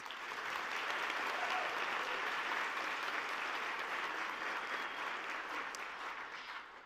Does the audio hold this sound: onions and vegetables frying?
no